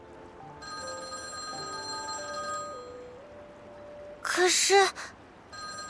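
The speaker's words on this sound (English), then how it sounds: "The phone kept ringing, somehow sounding more obnoxious with every ring." A telephone rings over and over in a story-driven game, a steady electronic bell tone repeating beneath soft ambience before a voice gasps and speaks briefly near the end.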